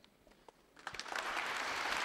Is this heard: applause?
yes